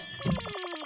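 A telephone rings in a rapid electronic trill, a short loud burst of repeated pulses heard up close in an Indian sitcom scene, with no voices over it.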